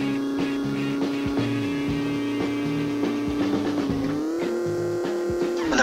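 A car engine in the Road Trip Adventure game drones steadily and loudly, then its pitch climbs as the car picks up speed, with no talking over it.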